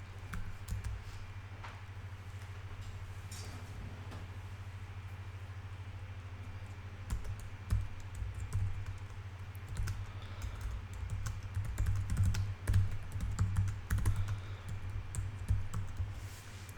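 Typing on a computer keyboard: quiet, irregular key clicks over a steady low electrical hum, growing busier and denser toward the end, with no talking.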